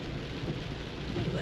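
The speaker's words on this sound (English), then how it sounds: "It's been raining all the way from Shinwetsi right to Letaba. And if you look further south, it's just a white out. It's just rain." Heavy rain with thunder during an overland drive in southern Africa, a dense, steady roar of downpour with low rumbling throughout, loud and continuous with no talk.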